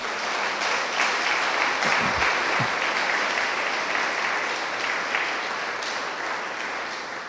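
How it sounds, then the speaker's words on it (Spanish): Sustained applause from a large church congregation, a dense steady clatter of clapping that gradually fades toward the end. "¿Y por qué no le dan un aplauso de gratitud al Señor?"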